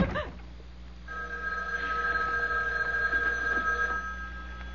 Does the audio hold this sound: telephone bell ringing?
yes